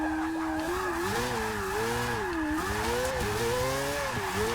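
Audi R8 race car in Forza Motorsport 6, a mid-engine rear-wheel-drive build converted from all-wheel drive and fitted with a quad-rotor engine, revving steadily with rising and falling pitch as it drifts, loud and close throughout with no talk.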